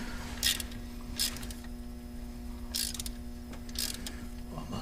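A ratchet wrench with a 10mm socket tightens bolts on a GMC Yukon engine after a DoD delete, giving short clicking bursts spaced apart over a steady background hum.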